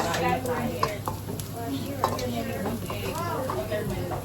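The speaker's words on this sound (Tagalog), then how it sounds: "Igisa na tayo ng sibuyas, bawang" Onion and garlic sautéing in a hot pan, a steady soft sizzle with occasional scrapes and clinks of stirring, moderately close, while people talk over it.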